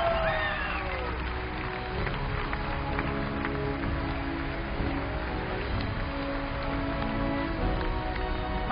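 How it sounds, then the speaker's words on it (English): A large audience at the E3 2015 showcase for Fallout 4 applauds and cheers, a steady, muffled crowd roar that fills the hall without a break. "can I please get another round of applause for that man?"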